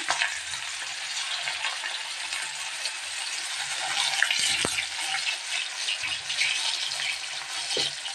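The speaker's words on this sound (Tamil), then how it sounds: "கடையில் எண்ணெய் நல்லா ஹீட் ஆகிடுச்சி இப்போ வந்து நம்ம ஆனியன் ஆட் பண்ணிக்கலாம்" Onions go into hot oil in a kadai for a chutney, giving a close, steady crackling sizzle with occasional stirring clinks and scrapes, with no talking.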